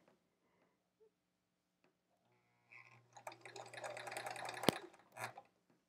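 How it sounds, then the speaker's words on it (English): A sewing machine stitching a quilt block strip together, starting after a quiet pause with a short rapid run of mechanical whirring and clatter, then a brief final burst, close by and without speech. "So we are just sewing this strip together."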